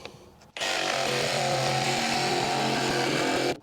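A power tool cuts through the lines of a return register booster installation. A loud, steady motor buzz starts abruptly, runs alone for about three seconds, then stops sharply.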